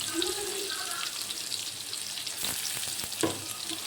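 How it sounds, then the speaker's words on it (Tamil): Chopped green chillies and onions fry in oil in a pan, a soft, steady sizzle close by with a few clattering stirs and scrapes toward the end. "கட் பண்ணி வச்சுக்கிற பச்சை மிளகா, வெங்காயம் போட்டு நல்லா லைட்டாக கோல்டன் ஃப்ரை ஆனதுக்கப்புறம்"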